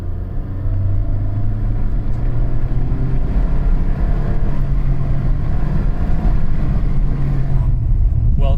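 A 4th-generation Nissan Altima 2.5 S accelerates held in manual first gear, a loud, close engine drone with a steady low rumble and rising whine that holds throughout the clip.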